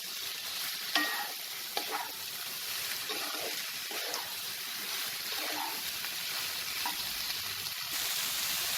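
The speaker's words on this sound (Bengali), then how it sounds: "সোয়াবিন, যেটাকে আমি ম্যারিনেট করে রেখেছিলাম, সেটা পুরোটা অ্যাড করে দেবো। এটাকে ভালো করে আমি মিক্স করে নেব।" Marinated soybean chunks are stirred and mixed in a hot pan for soya biryani, giving a continuous frying hiss with soft scraping strokes of a spoon, close and fairly quiet, no voices.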